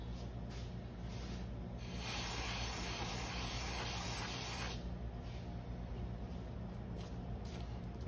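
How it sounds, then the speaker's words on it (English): Brake cleaner sprays onto 1973 Honda SL350 carburetor parts in a steady hiss lasting about three seconds over quiet workshop background noise, with short faint bursts before and after. "Give them a little brake cleaner."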